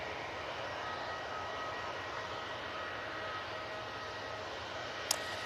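Airliner climbing out after takeoff from Manchester Airport, a steady broad engine roar held at distance throughout, with a brief sharp click near the end.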